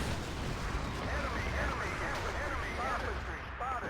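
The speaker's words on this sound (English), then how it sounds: "Artillery coming down, but it's a hair late." Artillery barrages fall in a 16-versus-16 multiplayer war game battle, dense rumbling blasts and crackling gunfire piling up close and loud, with a commentator talking over the noise.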